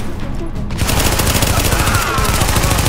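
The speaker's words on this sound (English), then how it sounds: "Shoot from behind cover, this is blind fire right now." Sustained rapid machine-gun fire in the video game The Division, shot blind from behind cover, loud and continuous for the whole stretch as a dense, unbroken rattle.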